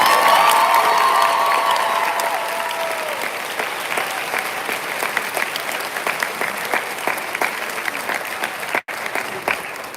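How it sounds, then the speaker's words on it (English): Audience at a 2022 high school graduation ceremony breaks into loud sustained applause in a large hall, strongest at the start and slowly thinning out, with a few faint cheers mixed in. "Let's give him a round of applause."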